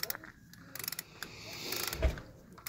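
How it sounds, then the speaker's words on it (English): Torque bar with a 3/4-inch socket working a wheel nut on a 2003 Subaru Forester, giving a few sharp mechanical clicks and a brief ratcheting creak up close, with faint background noise. "So we're using a 3/4 on the torque bar instead of a 19 mil."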